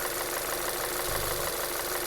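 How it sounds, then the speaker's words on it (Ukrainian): A 2010 Volkswagen Tiguan 2.0 TSI 4MOTION with automatic gearbox idles steadily, heard close up as an even mechanical hum with a faint low throb, no voices. "Двигун тут працює гарно, добра машина заводиться на холодний, на гарячий."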